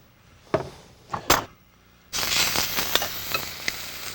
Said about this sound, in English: I took a filet and I cut it into medallions, and I'm just going to sear that off a little bit